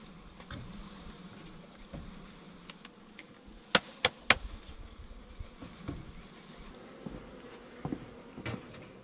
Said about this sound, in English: and then shake all the bees in there.